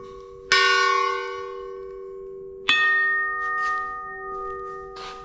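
A handmade iron chime for a fence, struck twice with a screwdriver, rings out like a bell with bright metallic overtones; each loud strike decays slowly into a long sustained hum, with lighter taps near the end.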